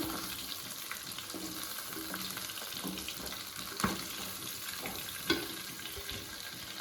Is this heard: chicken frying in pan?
yes